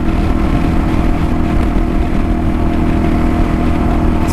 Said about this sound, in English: So we're in 5th gear now, doing 70 indicated on the dash, and we seem to be having a bit of a problem.